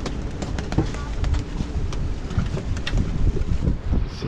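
Strong wind aboard a boat buffets the microphone with a constant low roar and gusty rumble, along with faint creaks and clicks, and no voices.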